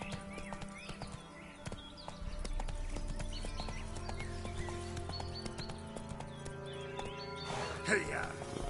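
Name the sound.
horse galloping, hooves clip-clopping, in The Witcher video game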